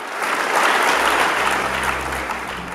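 Second-generation members of a religious gathering clap for several seconds after a long address, a dense, steady applause that swells and then gradually eases.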